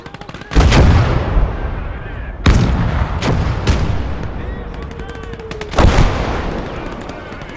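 Gunfire in the World War II video game Gates of Hell: Red Star Rising: several sharp, loud shots and booms crack out over a rumbling battle din, with a couple of heavy blasts spaced a few seconds apart.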